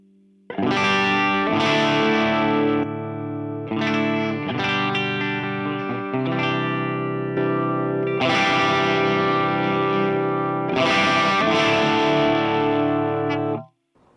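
An electric guitar runs through a TC Electronic JIMS 800 high-gain preamp with its boost engaged, ringing out loud, saturated overdriven chords in sustained strummed phrases for about thirteen seconds, with a chorus-like shimmer and no speech.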